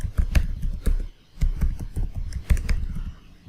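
A password is typed on a computer keyboard: quick, irregular key clicks in short bursts, close and fairly loud, with brief pauses between runs.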